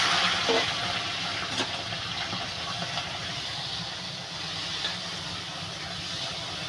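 Prawns frying in a hot pan give off a loud, continuous sizzling hiss with a brief louder burst near the start and faint crackles throughout, with no one speaking.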